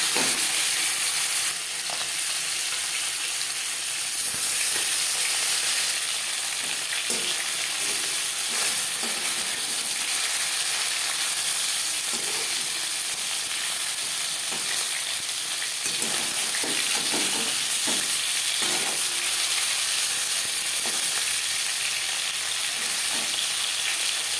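Tilapia fish fries in hot oil for a Bengali curry, with a steady crackling sizzle and occasional scrapes and clinks of a spatula, close and continuous for the whole stretch.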